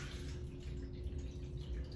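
Film developer is poured quickly into a developing tank in a darkroom, a soft continuous liquid splash and gurgle lasting about two seconds, quiet and close with no talking.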